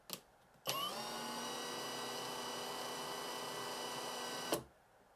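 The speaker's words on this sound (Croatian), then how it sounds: "Hajde da čujemo malo mašinu kako radi." A Villager VLP 5320 impact driver runs free for about four seconds with a steady high-pitched whirring motor whine, starting and stopping abruptly, close and alone.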